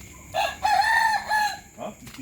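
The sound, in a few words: rooster crowing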